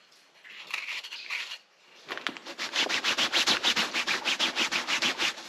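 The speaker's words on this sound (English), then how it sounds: "I'll keep polishing it." Scotch-Brite pad scrubbing a metal lid, a few irregular rubs at first, then a fast, even back-and-forth rasp repeating about three times a second, close and loud.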